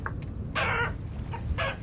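A rooster and hen in the Vintage Story video game give a few short, sharp clucks in separate bursts over a low background hum.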